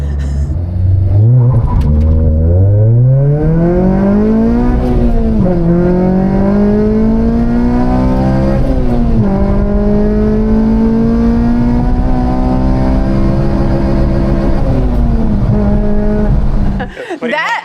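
A Honda Civic Si with a swapped K24 engine accelerates hard through several gears, its rising engine note climbing and dropping at each shift, loud and close, then cutting off abruptly at the end.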